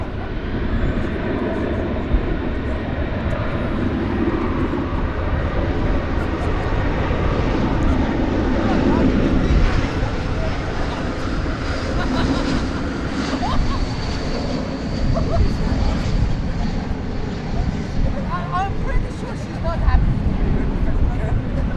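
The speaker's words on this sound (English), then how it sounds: "Flight 1322, an Airbus A321 coming in from the mile-high city of Denver, Colorado" An Airbus A321 on Flight 1322 from Denver approaches DFW Airport at night, its broad engine roar and rumble steady and fairly near throughout, with a voice talking over it.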